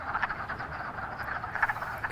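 Wood frogs at a vernal pool keep up a soft, continuous chorus of clucking croaks. The calls overlap and come in small bursts, with no voices.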